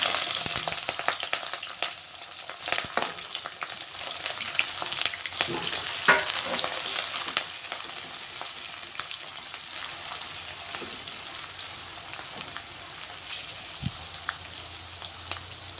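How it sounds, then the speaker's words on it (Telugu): Onions and green chillies fry in hot oil with a steady broadband sizzle throughout, broken by occasional scrapes and clatters of stirring; close and moderately loud, with no one talking. "నూనె వేడెక్కింది. ఇప్పుడు ఉల్లిగడ్డలు పచ్చిమిర్చి వేసుకుంటున్నా."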